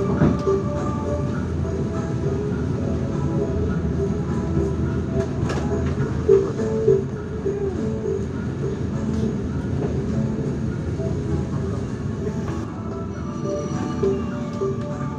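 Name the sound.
Mataram passenger train running at night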